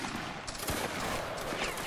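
Musket volley from a firing line in a Roblox Waterloo battle game: a dense burst of overlapping shots rolls out together and sustains as a crackling roar for a couple of seconds, with no voices.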